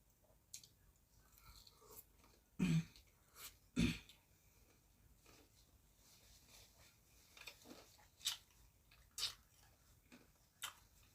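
Someone chews batter-fried sweet bolete mushroom nuggets up close, with a few sharp crunchy bites and softer sporadic chewing clicks spread over a quiet background.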